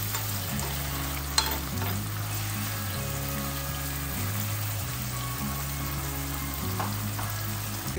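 Spaghetti frying in a pan, sizzling steadily and close while being stirred, with a scrape here and there and no talk.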